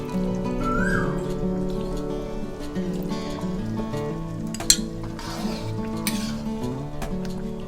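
Thick chicken sauce being stirred in a pan for chicken over rice, with soft scraping strokes and occasional clinks over a background of faint music, plus one sharp tap.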